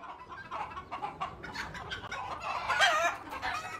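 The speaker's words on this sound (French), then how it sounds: "Des poules et des chèvres." Several hens clucking in quick, uneven bursts, fairly close, with occasional louder squawks rising over a steady farmyard background.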